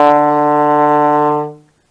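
A trombone sounds a single sustained D in fourth position, a steady brassy tone held alone for about a second and a half before fading out.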